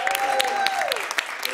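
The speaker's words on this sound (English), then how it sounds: "Clap it up, Lower East Side." Audience at the Nuyorican Poets Cafe on the Lower East Side clapping, a lively scatter of hands with sharp individual claps punctuating the sound, heard under a voice and a sliding tone.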